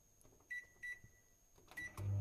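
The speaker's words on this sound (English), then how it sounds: "now I'm going to put this in the microwave, and Jenna has her little microwave down her" A small kitchen microwave oven is set to high: a few short electronic beeps sound as its buttons are pressed, then a low, steady hum starts as it begins running. The sounds are faint and close.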